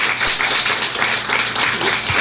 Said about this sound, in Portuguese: pedindo que recebam com uma salva de palmas, calorosamente